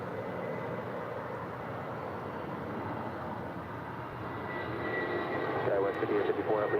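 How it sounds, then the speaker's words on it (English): A United Airlines Boeing 757-300 departs LAX, its jet engines a moderate, steady rumble that swells slightly louder toward the end, with faint voices underneath. "our next departure, United Airlines Flight 622 heading to Chicago O'Hare, and the 757-300"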